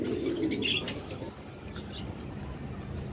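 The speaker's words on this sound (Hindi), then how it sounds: "कबूतर भूखा लग रहा है" Pigeon cooing on a windy rooftop, soft low coos mixed with a few bird chirps over steady wind noise, with faint voices in the background.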